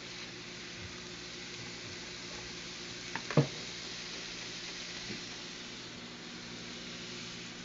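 Steaks sizzle in a hot pan, a steady close hiss with a brief clatter of handling partway through.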